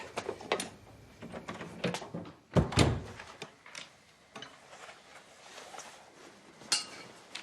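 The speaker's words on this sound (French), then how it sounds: "Ferme la porte, s'il te plaît." A door swings shut indoors in a home, giving one dull thud with a short knock amid faint ticking and small room noises, fairly quiet and with no talking.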